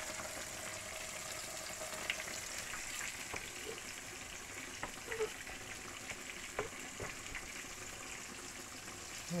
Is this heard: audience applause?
no